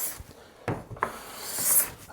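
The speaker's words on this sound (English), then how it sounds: "I'm going to back my plane off till it's just barely cutting" A hand plane set very fine takes light shavings off a board, producing a few short soft swishing strokes close by, the last one longer and brighter, with no talking.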